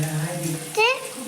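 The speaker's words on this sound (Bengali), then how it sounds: "এই যে এবার লাল ব্যাটারটা দিয়ে দিচ্ছে। এই যে দেখুন কত সুন্দর ফুলে উঠছে" Red batter dropped into hot oil in a village kitchen, a short soft sizzle and bubbling under a voice talking.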